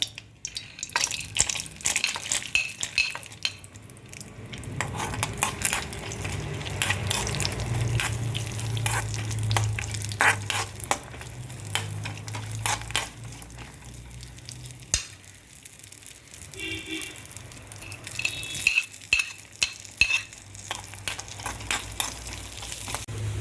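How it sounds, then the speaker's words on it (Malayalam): Cashews and raisins fry in hot ghee in a pan, giving a steady close sizzle with bursts of crackle and the occasional scrape of a stirring spoon, no talk over it. "ഈ നെയ്യൊന്ന് ചൂടായി വരുമ്പോൾ നമുക്ക് കുറച്ച് അണ്ടിപ്പരിപ്പും കുറച്ച് മുന്തിരിയും കൂടെ അതിലേക്ക് വറുത്ത് കോരിയിടാം."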